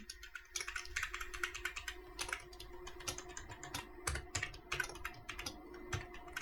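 Rapid, continuous keystrokes on a computer keyboard while code is being typed, a busy uneven clatter of close taps with small bursts and pauses, no voices.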